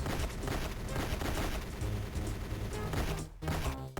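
Rapid, dense gunfire from the standard gun in GoldenEye: Rogue Agent on DS crackles continuously in a harsh stream, with a short break before a final burst.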